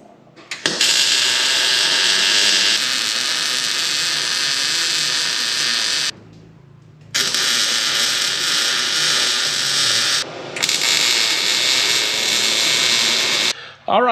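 A metal bar cut down for welding in a workshop: a loud, close, harsh mechanical whine runs in long bursts, stopping twice briefly before starting again.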